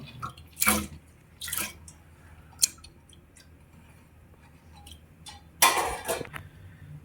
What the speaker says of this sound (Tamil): தோரம் பருப்பையும் பயத்து பருப்பையும் இதில் சேர்த்துக்கலாம்